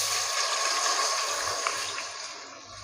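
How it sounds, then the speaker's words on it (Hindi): A glass of water poured into lightly heated cooking oil in a kitchen pan gives a steady, close rushing hiss that slowly eases toward the end. "इसके अंदर पानी ऐड करना है"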